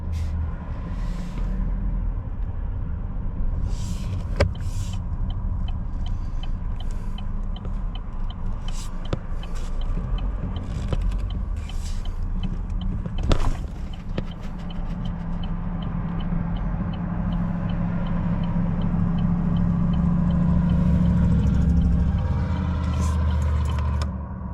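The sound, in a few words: Chevy Malibu engine surging as the throttle is hit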